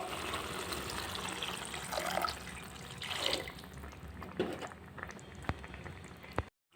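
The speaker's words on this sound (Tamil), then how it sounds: "இப்போ தேவையான தண்ணி விட்டுக்கணும்" Water poured into a pan of sautéed raw banana for a Tamil-style curry, a steady trickling and splashing that swells at moments, close and fairly quiet, with no talk.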